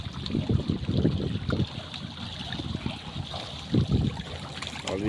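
Strong water flows and churns in a milkfish pond, a close, rushing and gurgling current with uneven surges throughout.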